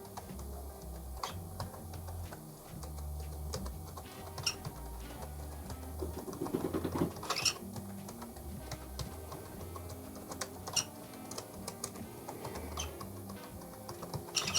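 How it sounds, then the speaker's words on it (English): Typing on the keyboard of a mystery 1970s Z80 computer, with continuous rapid key clicks and a low hum running underneath. "now I'm just going to start typing stuff"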